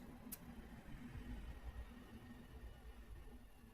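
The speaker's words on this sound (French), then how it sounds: "Et le moteur il fonctionne dans cette configuration là." A three-phase 380V electric motor runs on a single-phase 220V supply, giving off a faint, steady low hum with a constant even drone and no speech.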